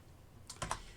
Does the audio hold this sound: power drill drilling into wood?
no